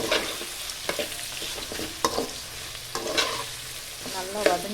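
Brinjal being sautéed with salt in a pan: soft sizzling under repeated stirring and scraping of a spatula, with sharp clatters at intervals, close and fairly quiet.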